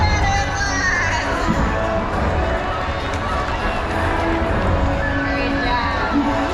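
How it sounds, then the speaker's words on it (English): Crowd cheers and applauds at a SeaWorld San Diego orca show, a steady wash of clapping and shouts from the stands, broad and fairly loud throughout, with some voices audible in the mix. "Big round of applause"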